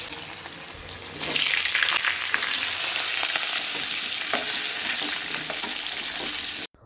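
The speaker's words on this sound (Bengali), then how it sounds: "ওদিকে আলুটা ভাজা হচ্ছে" Potatoes fry in hot oil in a pan, a loud, continuous close sizzle starting suddenly and holding steady with occasional crackles until it stops.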